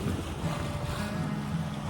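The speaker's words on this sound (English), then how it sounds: "We got some champagne sailing here on the Chesapeake Bay, doing about 6 knots" Sailboat moving at about 6 knots on flat water in the Chesapeake Bay, with a steady wash of water along the hull and soft wind rush, continuous and fairly quiet.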